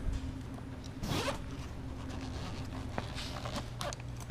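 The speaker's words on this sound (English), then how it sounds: "Let's go ahead and unzip it. Has a nice heavy duty zipper on it." A heavy-duty zipper on the carrying bag of an Arctic air conditioner is unzipped in one quick close pull, followed by a few faint handling knocks and a second shorter zip.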